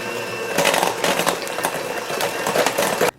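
A hand or stand electric mixer whirs steadily as it beats lemon ricotta cookie dough with vanilla and eggs, a continuous close motor drone with slight load changes, cutting off abruptly at the end.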